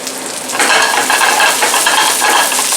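Cauliflower stirred in a hot frying pan, a loud close sizzle with scraping utensil strokes against the pan, continuous and without talk.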